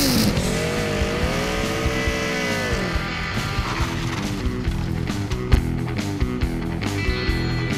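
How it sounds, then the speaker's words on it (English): Racing car engines rev and scream in a short intro effect, with rising and falling engine whines over a busy, loud roar and brief squealing, continuous throughout. "Rev up your engines!"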